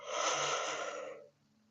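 A single slow yoga inhale, a steady airy breath lasting just over a second, close and clear, then quiet.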